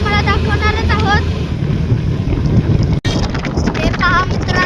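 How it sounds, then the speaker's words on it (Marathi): Cool wind blowing near a waterfall, a loud, steady broadband rush with gusty buffeting against the microphone, briefly cut out near the middle, while tonal chirping sounds rise over it now and then. "गार वारा सुटलेला आहे."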